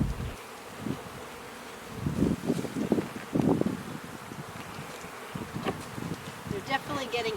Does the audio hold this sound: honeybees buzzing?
yes